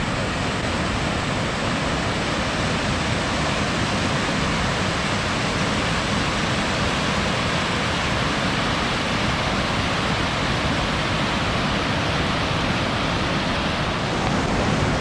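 A waterfall rushes nearby in a steady, dense roar of falling water, broadband and unbroken, loud and alone.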